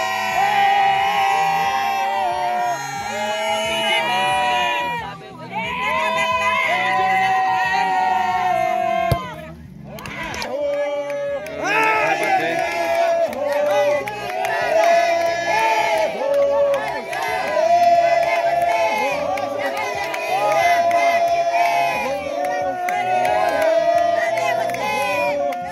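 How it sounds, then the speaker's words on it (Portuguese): Football fans at a local tournament final between Terra Preta and Lyon cheer and chant loudly through a penalty shootout, with one short dip midway before the roar resumes, under an announcer's talk. "Aqui está a torcida do Terra Preta. Aqui está a torcida do Lyon."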